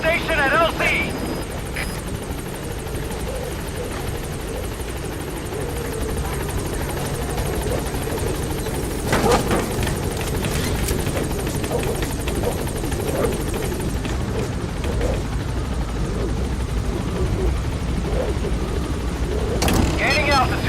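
Pequod transport helicopter in Metal Gear Solid V arriving at a landing zone, its loud steady rotor thrum filling the scene with sharp gunfire-like cracks and voices heard over the din.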